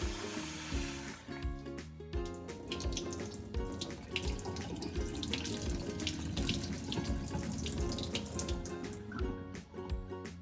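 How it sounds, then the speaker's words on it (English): Cut potatoes are washed under a running kitchen tap. Water splashes and gushes continuously at close range, with small irregular clatters and drips and no talking. "So now I'm gonna wash the cutting potatoes, because it's very important to wash this after cutting it."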